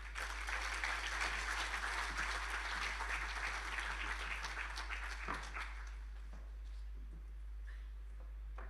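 An audience applauds after a speech at the official launch event for a Kruger National Park centre. The clapping is steady and full for about five seconds, then dies away, leaving a low hum.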